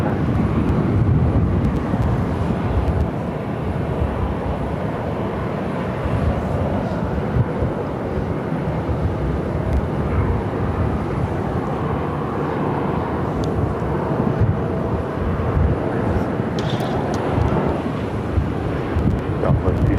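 American Airlines jet taking off from runway 25 right at Phoenix, a sustained loud engine rumble with some wind buffeting, steady throughout and free of speech.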